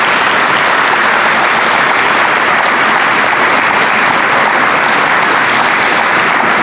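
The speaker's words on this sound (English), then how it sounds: "Let's have a round of applause for all the inductees tonight." A large crowd at a high school athletic hall of fame night applauds the inductees, loud, dense, unbroken clapping filling the room at an even level from start to finish.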